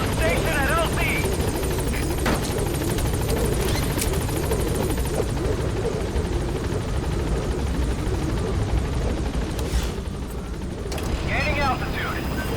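Pequod, a helicopter in the Metal Gear Solid V video game, approaches the landing zone with a loud, continuous rotor thrum and engine roar, while radio voices talk over it.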